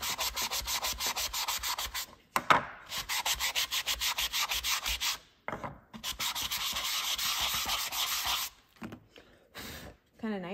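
Sandpaper rubs back and forth over a wooden Father's Day sign in quick, rhythmic strokes. The sanding is close and loud, broken by a few short pauses.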